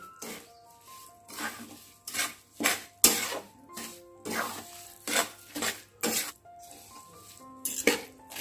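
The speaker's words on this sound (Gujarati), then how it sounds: "આ ડ્રાયફ્રૂટ નાખી દઈશું અને આપણે ગુંદર શેકીને રાખ્યો તો એ નાખી દઈશું અને બરાબર મિક્સ કરી દઈશું." Dry fruits and roasted edible gum being stirred into a thick adadiya pak mixture of jaggery in a pan, giving repeated close scraping and clinking strokes of a spoon against the pan in an irregular rhythm, with no talk.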